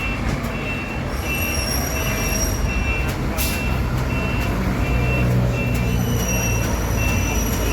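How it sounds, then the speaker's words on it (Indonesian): A Ramayana intercity bus pulls away with a loud, steady engine rumble and road noise, a repeating beep sounding over it and brief talk inside the cabin. "Oke, bus diberangkatkan."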